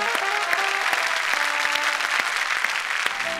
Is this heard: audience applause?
yes